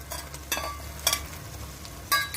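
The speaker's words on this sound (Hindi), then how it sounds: "अब हम इसके अंदर डाल देंगे आलू" Potatoes stirred into mutton kosha masala cooking in a pan, a soft low sizzle broken by several sharp scraping stirs of a spoon, close and quiet, with no talking.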